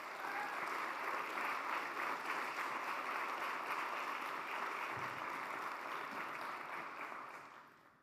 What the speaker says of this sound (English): Can we give Paul another round of applause?